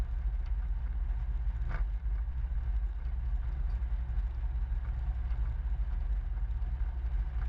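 A light sport aircraft taxis toward runway 28 at a sports flying training field, its engine a steady low drone and rumble with wind buffeting, continuous and close throughout.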